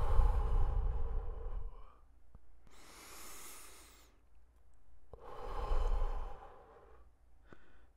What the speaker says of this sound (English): Just keep breathing like that.